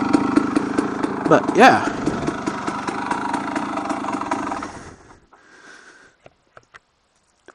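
A street-legal KTM 250 XC two-stroke dirt bike idles with a steady buzzing putter, close and fairly loud, then cuts out, leaving a few faint clicks; someone speaks briefly near the end.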